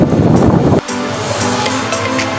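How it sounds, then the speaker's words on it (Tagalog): A motor starts up with a loud burst of rushing noise, then settles abruptly into a steady humming idle, close and unaccompanied by speech. "Start up na namin yung motor"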